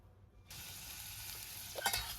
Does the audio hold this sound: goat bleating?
no